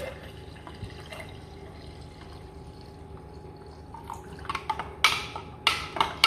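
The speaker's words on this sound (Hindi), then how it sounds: "मैंने बस इसी स्पून के साथ इसको मिक्स कर लूँगी" A spoon stirs lemon juice drink in a glass, soft liquid swirling followed by several sharp clinks of metal against glass toward the end, close and clear, with no talk.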